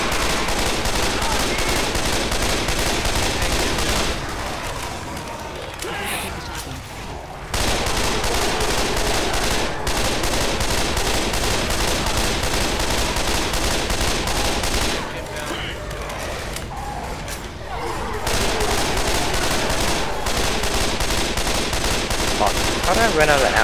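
Continuous automatic gunfire in Left 4 Dead 2 during a survival round in a warehouse, dense rapid bursts broken by two short lulls, with players talking over it.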